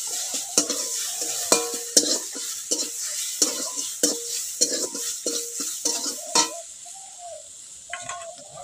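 Cabbage stirred in a pan with garlic, ginger and cumin paste: repeated scraping strokes of a spoon against the pan over a steady sizzle, close and fairly loud, with no talk.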